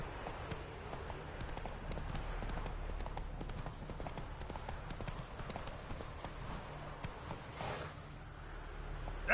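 Roach the horse trots through the world of The Witcher 3, its hooves making a steady, fairly quiet clip-clop that keeps going under faint game ambience.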